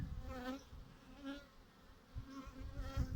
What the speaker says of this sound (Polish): Całe pszczoły wchodzą, wychodzą do niej.